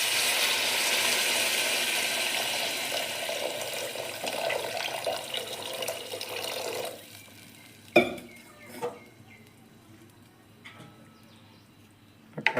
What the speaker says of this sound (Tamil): ஒரு தண்ணி ஊற்றிக்கலாம்.